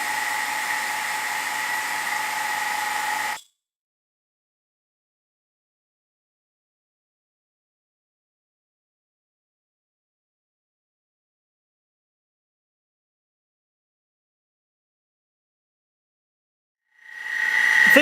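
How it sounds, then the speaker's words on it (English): A vacuum pump on a vacuum chamber runs with a steady high whine for a few seconds, cuts to long silence, then starts up again near the end. "open this valve to the vacuum pump, and start it up"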